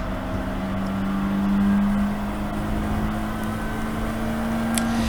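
A GAZ racing car engine at Snetterton circuit holds a steady, droning note with a slight rise in the middle, running continuously at close range without talk.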